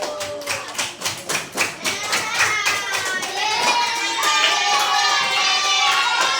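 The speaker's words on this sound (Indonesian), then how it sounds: "Kita kasih tepuk tangan dulu untuk kelompok 1." Students clap for a group in a classroom, starting as a pattern of distinct, rhythmic hand claps and then dissolving into loud, continuous applause mixed with children's cheering voices.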